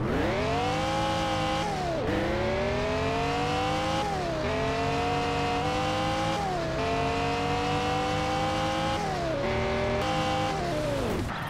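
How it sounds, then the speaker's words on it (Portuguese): A Lamborghini engine in the mobile game Car Parking Multiplayer revs hard through repeated upshifts, pitch climbing then dropping at each gear change, loud and continuous. "agora vamos acelerar essa Lamborghini"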